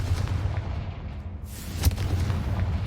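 A Confringo blasting spell explodes in Hogwarts Legacy, sounding as a sharp boom near the middle over a steady low rumble of game ambience.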